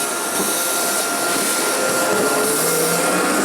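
A steady, loud roar of a vacuum-style suction machine sucking up balls at Silver Dollar City, continuous and broadband with no pauses, running close by.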